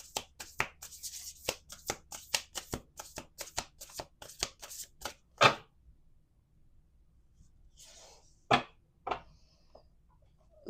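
Oracle or tarot cards are shuffled by hand in quick, crisp riffling bursts, a rapid run of sharp flicks followed by a pause and a few final separate shuffles.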